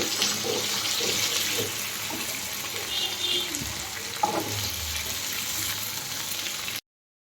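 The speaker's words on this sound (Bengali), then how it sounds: "এবার এই মিষ্টি আর নুন দিয়ে আমি কিন্তু এঁচোড়টাকে সুন্দর করে ভেজে তুলব।" Young jackfruit fries in a pan with sugar and salt, giving a continuous hissing sizzle with a few soft knocks, then cutting off abruptly near the end.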